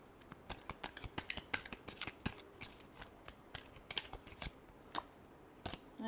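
A deck of tarot cards is shuffled by hand in a series of quick, crisp riffling flutters and slaps, irregular bursts that are close and fairly quiet.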